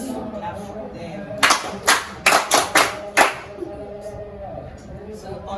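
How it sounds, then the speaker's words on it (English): An audience claps for visiting guests at a community event, with about six short bursts of hand claps in uneven rhythm, fairly near and loud over a murmur of background voices. "Clap for them."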